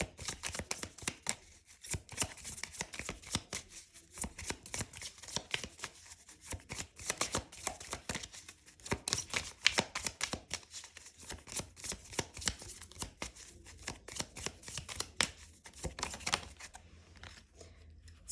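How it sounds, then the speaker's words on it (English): A Kipper fortune-telling card deck shuffled by hand, a fast continuous run of crisp riffling flicks and card snaps lasting throughout, close but soft, with no voice. "I'm just going to pull a card, another card from Kipper"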